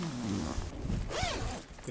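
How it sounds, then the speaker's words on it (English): A tent door zipper is pulled closed in a windy mountain campsite, a few close, rasping zip strokes over steady wind noise. "To prevent that breeze, I might actually just even zip this up completely."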